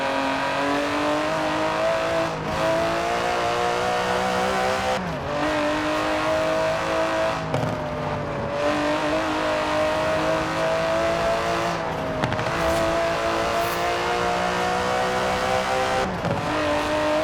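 Aston Martin DB11 with a 5.2-litre twin-turbo V12 in Forza Horizon 4, a loud continuous engine roar climbing through revs with several quick gear-change dips, with faint tyre noise.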